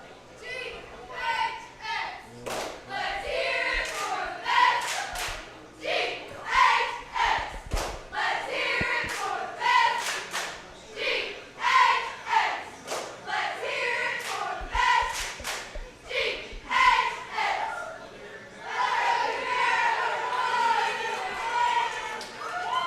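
Grant High School cheerleaders perform a routine, with loud rhythmic chanting, shouted calls and sharp claps and stomps in bursts, the group's voices ringing out together at close to middle distance.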